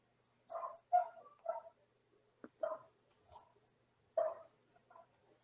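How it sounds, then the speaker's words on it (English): Dogs barking in the background during an online medical case discussion, a run of short, moderately faint yaps and barks spread across the stretch with brief gaps between them. "I apologize for my dogs barking in the background."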